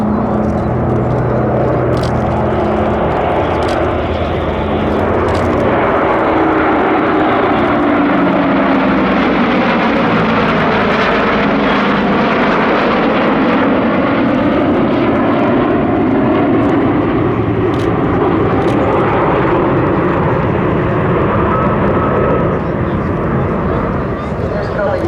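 A Breitling Super Constellation, a 60-year-old four-engine propeller airliner, flies past at the Sanicole airshow, its loud, steady droning engines swelling and fading over about 25 seconds while an announcer speaks over the public address.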